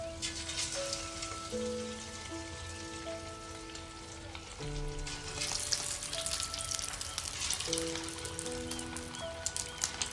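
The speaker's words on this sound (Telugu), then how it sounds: "ఇది ఫ్రై అయ్యేటప్పుడు రౌండ్ అంటే చుట్టుకోకుండా చూసుకోవాలి" Chicken pieces fry in hot oil in a home kitchen, a steady close sizzle and crackle with a few stirring clinks, while a music or tonal background runs underneath.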